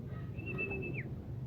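A racing pigeon arrives at its home loft at the end of a race from Matnog. Soft bird calls and a faint whistle-like tone sit over a steady low background rumble.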